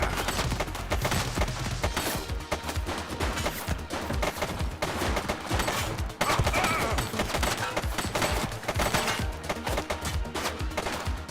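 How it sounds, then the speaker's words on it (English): Rapid gunfire in a video game crackles nonstop, with dense bursts of shots and sharp cracks that overlap. Loud and close throughout, no voices heard. "He's shooting!"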